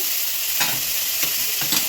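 Ginger and green chili paste frying in a pan with fried rice for a Bengali fish-head muri ghonto gives a constant close sizzle, broken by a few soft scraping stirs.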